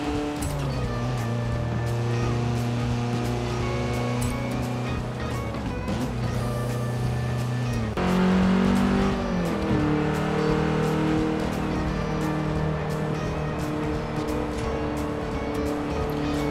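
Steady engine drone of a car cruising in Forza Horizon 4, with the revs held fairly constant and a gear change partway through, close and continuous with no voices.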